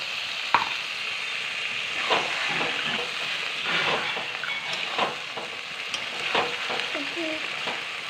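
Meat fries in a pan as a splash of rinse water from a mixer jar is added, producing a steady loud sizzle and hiss with occasional stirring clatter.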